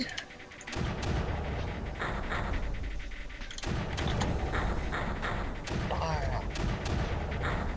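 Weapons fire in the strategy game Creeper World as dense, overlapping bursts of gunfire-like shots and dull thuds, forming a loud, continuous barrage.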